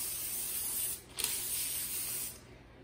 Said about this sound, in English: now I'm going to spray the parchment paper as well